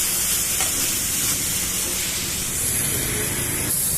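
A beaten egg and brinjal mixture fries in a hot pan, giving a loud, continuous hiss and sizzle with faint crackling throughout.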